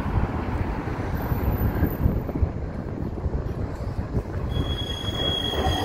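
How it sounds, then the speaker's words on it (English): A Blackpool tram rolls along the North Prom tracks with a steady loud rumble, its wheels letting out a thin, sustained high screech that cuts through, plus some wind buffeting on the microphone. "Screechy tram. That was a screech."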